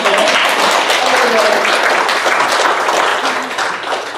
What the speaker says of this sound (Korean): 일단 박수 한번 쳐야 돼요